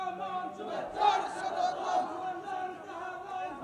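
A crowd at a Bangladeshi religious gathering for a Muslim preacher's arrival chants a slogan into a microphone, voices overlapping in a loud, steady collective cry that rises and falls across the span.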